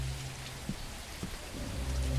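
Rain falling steadily as a soft, even patter, with a low hum underneath and a few faint thumps.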